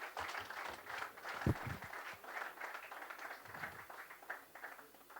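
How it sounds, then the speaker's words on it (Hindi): Audience applause at a symposium in honour of a governor, faint and fairly distant, a steady patter of many hands with a couple of louder thumps. "आपकी तालियां इस अभिनंदन को प्रभावी बनाएंगी।"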